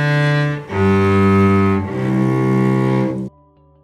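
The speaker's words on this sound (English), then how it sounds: "The strings make sounds when the bow runs across the strings." Long bowed notes on cello strings, rich and sustained, with two strokes of about a second each and then a brief quieter tail, played close up and alone.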